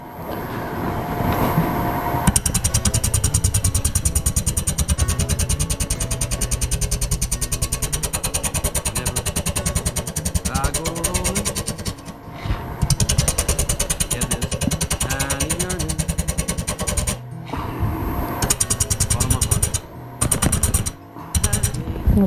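Wood lathe turning a piece of wood as a gouge peels off shavings, a loud continuous whirring drone with rough scraping and chattering, dropping out in several brief gaps.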